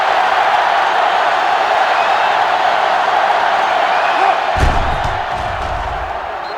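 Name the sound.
stadium crowd cheering in video game NCAA Football 06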